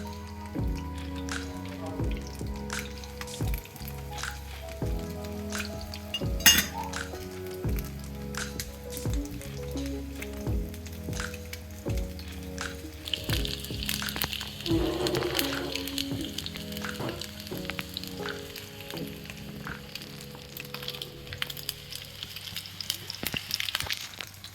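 Fish sizzles and spatters in hot coconut oil in a pan over a low to medium flame, a steady crackling frying sound that runs throughout, with background music playing underneath.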